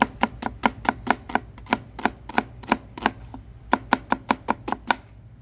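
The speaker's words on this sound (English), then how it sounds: "Next I'm going to do the onion. Just going to cut it in half. And we're just going to julienne this thing." An onion being julienned with a knife on a cutting board, a steady run of sharp chopping taps in quick even bursts with one short pause, close and clear with no talk.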